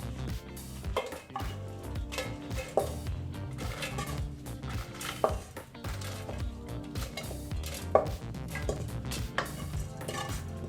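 Grated coconut and roasted spices being spooned into a mixer jar, giving a string of light metallic clinks and knocks from spoon and jar at close range, with no talking.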